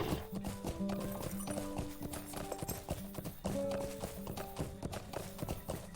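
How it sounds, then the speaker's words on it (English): Horse hooves clip-clop in a steady running rhythm in the online game Lord of the Rings Online, loud and continuous with a brief whinny, over game background sounds. "Let's ride a horse."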